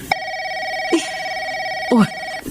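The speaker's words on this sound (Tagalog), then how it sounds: "Nagre-ring yung telepono natin." A telephone rings in a home during a family drama scene, a steady electronic tone running through the whole clip with a couple of brief voice-like sounds breaking in.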